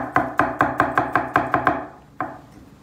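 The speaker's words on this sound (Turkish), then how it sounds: "Sarımsak ufaktı, bir tane daha doğrayalım." Quick, crisp knife chops on a cutting board, about eight evenly spaced strokes, then a pause and one final chop, chopping a garlic clove.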